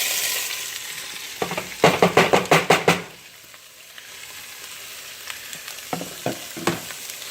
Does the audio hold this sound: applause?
no